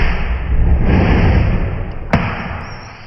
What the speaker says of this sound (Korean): 폭발합니다.